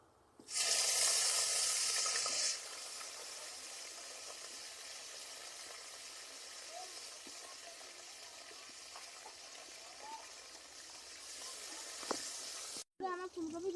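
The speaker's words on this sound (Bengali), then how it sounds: "এবার আমি ফুলকপিটা ভেজে নেব।" Cauliflower fries in oil in a pan. It begins with a loud rushing burst, then settles into a long, even hiss with occasional small pops and a brief break near the end.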